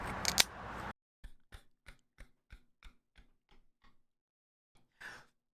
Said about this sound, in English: Stealth crack this beer.